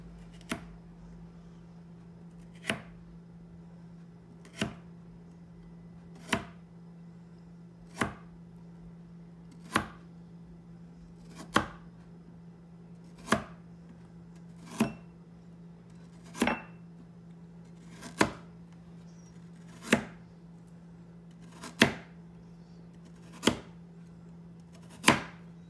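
A cutter chops through a carrot on a board in slow, regular single strokes about every two seconds, each a sharp knock over a steady low hum, with no talking.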